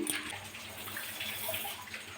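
Water from a cup, 1.5 cups, pours into a pot of sugar to make syrup for mango malpua, a soft steady trickle and splash heard alone and fairly faint.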